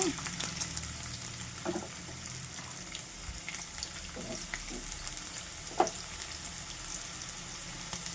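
Ginger garlic paste and cashews frying in a pan for avakaya biryani, giving a steady, quiet sizzle with occasional stirring clicks and scrapes.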